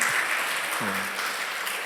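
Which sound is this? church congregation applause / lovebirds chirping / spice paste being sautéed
church congregation applause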